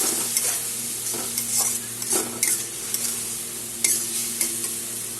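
Ground cumin, chili powder, turmeric and salt stirred and sautéed in a pan, with a soft steady sizzle under repeated scraping strokes of a spoon against the pan.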